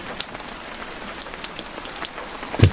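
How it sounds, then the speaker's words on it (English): Rain falling on a flagstone path by a countryside cottage in Scotland, a steady close patter with scattered louder fat drops splashing at irregular intervals, and no voices. "The first fat drops of rain begin to fall as you reach the cottage door, splashing onto the flagstone path"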